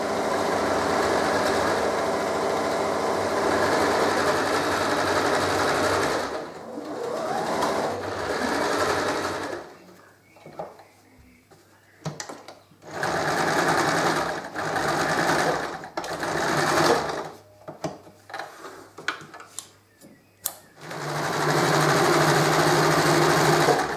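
Sewing machine stitching the lining and upper fabric for espadrilles, a loud, close continuous mechanical whir in long runs, broken by a quieter pause with short stop-start bursts before stitching resumes, no voice.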